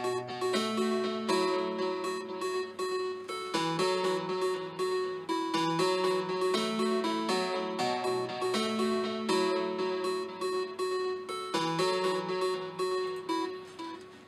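A bright, simple synth tone plays busy interlocking melodies, stacked in several octaves, steady and continuous with no voices.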